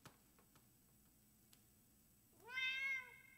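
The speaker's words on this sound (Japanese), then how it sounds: "猫の声がする。" A cat meows in the video game Goodbye World, one drawn-out, clear meow near the end, preceded by a few faint ticks and soft clicks over a quiet background.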